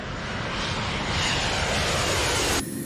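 Fokker F-28 jet engines roar at takeoff thrust, a loud, steady, broadband rush from up close that holds without a break before cutting off abruptly near the end.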